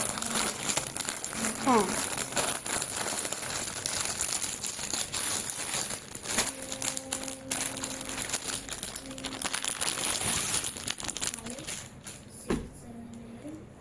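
A crinkly plastic package holding a violet saree is torn and opened, with papery rustling and crackling through most of the stretch while someone talks over it.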